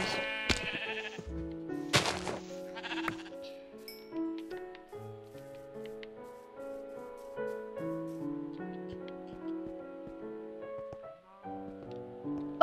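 Sheep bleat repeatedly in Minecraft on Xbox One, a string of short wavering cries spread through the passage against a musical background of steady tones, fairly clear and mid-distance, with a burst of louder activity early on.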